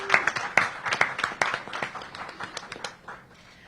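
A small crowd at a summer youth employment program launch gives brief scattered applause that thins out and fades over a few seconds.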